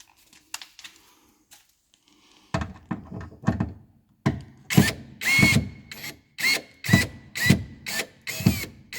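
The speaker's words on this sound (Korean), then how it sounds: "여기 위쪽에 나사 두 개가 있으니까 나사를 이제 풀고" Screws being undone on the rear trunk door trim panel of a Kia New Carens, a run of close, sharp ratcheting and drilling bursts that start sparse and grow into evenly spaced loud pulses, with no talking.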